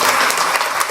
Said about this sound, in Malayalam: സിസ്റ്ററിന് ഒരു ഗംഭീര കയ്യടി കൊടുക്കല്ലാവരും.